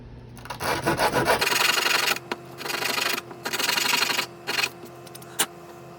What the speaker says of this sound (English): try to sand down this piece